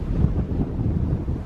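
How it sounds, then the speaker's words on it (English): Strong wind in a cold garden buffets the microphone in low, gusty rumbles, close and fairly loud for a brief moment. "from a very, very windy, cold garden"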